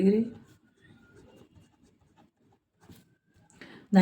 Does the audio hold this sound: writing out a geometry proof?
yes